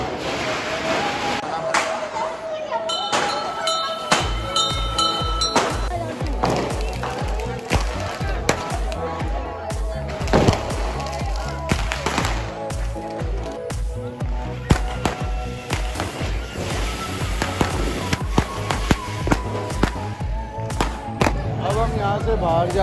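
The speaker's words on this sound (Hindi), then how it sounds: "इतना पटाखे फाड़ रहे हैं" Rapid, loud firecracker bursts at a Diwali celebration in Pakistan crackle and pop continuously, overlapping with a dense festive din and voices talking throughout.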